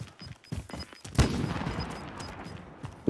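Gunfire in the video game Call of Duty Warzone: a few faint taps, then a single loud close shot that trails off into a rumbling echo, with no one talking.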